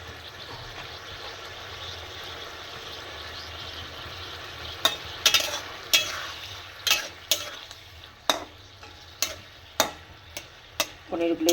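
Paneer gravy simmering in a pan, a steady low bubbling hiss with a series of sharp clinks, likely a spoon against the pan, growing more frequent in the second half.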